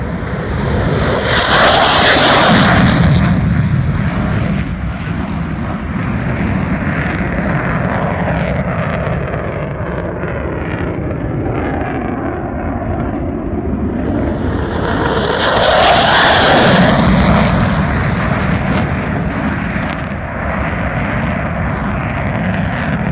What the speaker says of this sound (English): These two F-15s making unrestricted climbs.